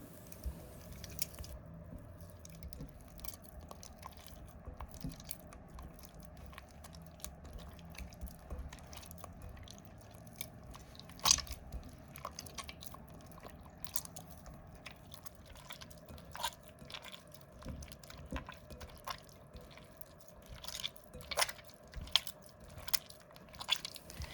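Bare hand squeezing and mixing egg yolk with 200 grams of softened butter into dough for a syrup-soaked dessert, giving soft, wet squishing and sticky squelches that run close and steady throughout, with no talking.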